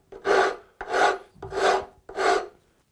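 A rasp or file worked on wood in four even strokes, each a loud, coarse scraping rasp separated by brief pauses, close up with no talk.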